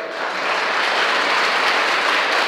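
An audience at a rural literary gathering applauds, a steady, dense rush of clapping that swells in within a moment and holds evenly and fairly loud.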